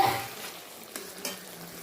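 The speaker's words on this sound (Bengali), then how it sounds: "আরেকটু নাড়িয়ে চাড়িয়ে আমি নামিয়ে দিচ্ছি" Chicken keema being stirred in a pan, a steady sizzle of frying meat with scraping strokes and two sharp utensil clinks against the pan near the end, close and alone.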